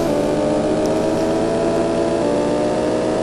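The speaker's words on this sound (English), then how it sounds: "Listen to that car. It sounds like it's like shifting every 3 seconds." A car engine droning steadily in Ford Racing 3 on the Game Boy Advance, a loud buzzy synthesized tone that holds with slight pitch wobble, no distinct gear change.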